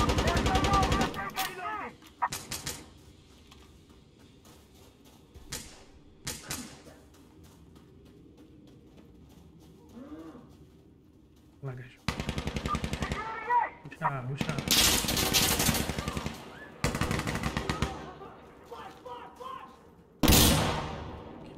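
Gunfire in Insurgency: Sandstorm, with loud bursts of automatic fire and single shots in irregular clusters separated by quieter gaps. A voice speaks briefly between the shots.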